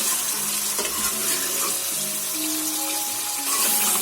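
Beef pieces frying in a pan for achari gosht give off a loud, steady, close sizzle that runs unbroken with no voices.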